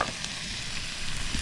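Sausages and onions sizzle in a frying pan outdoors on Martinsell Hill, a steady close crackle and hiss with no talking.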